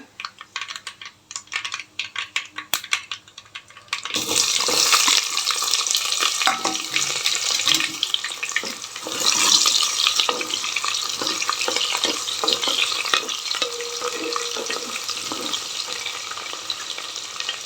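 Chopped onion dropped into hot oil in a pan for drumstick dal sambar, a loud steady sizzle and crackle that swells suddenly and then holds, with stirring clinks throughout.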